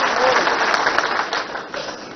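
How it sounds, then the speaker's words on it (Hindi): Audience applause breaks out at a government event, a dense burst of many hands clapping that stays loud and then tapers slightly toward the end. "लेकिन हमारी अपनी सरकार के लिए जोरदार ताली माननीय मोदी जी के लिए बजाएं थे।"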